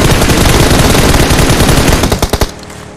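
Rapid automatic gunfire from the mobile battle-royale game PUBG Mobile, a dense loud burst of shots that runs continuously, then breaks into a few separate cracks before stopping abruptly.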